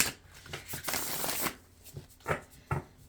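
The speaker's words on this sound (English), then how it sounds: "I'm going to give them a few more shuffles for you." A deck of tarot cards is shuffled by hand in several quick riffling bursts with short pauses between them, close and fairly quiet.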